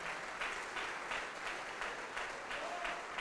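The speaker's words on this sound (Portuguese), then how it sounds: "Vamos aplaudir ao Senhor Jesus pela vida do Esdras" Church congregation applauding, a steady wash of clapping from a crowd filling the space at moderate level, sustained for a few seconds without pause.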